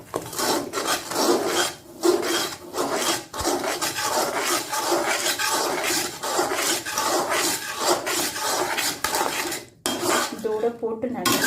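Spoon stirring cardamom and dry ginger powder into thick jaggery syrup in a pan, continuous close scraping and rubbing against the vessel with brief pauses, loud and steady.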